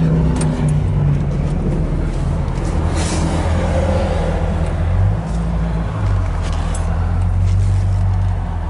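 A 1966 Pontiac Catalina convertible drives along with a loud, continuous engine and road roar close by, the tone shifting slightly as it slows near the end.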